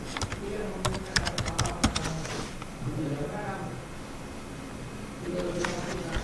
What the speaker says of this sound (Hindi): हमारा जो यूजर नेम है हम वो लिखते हैं।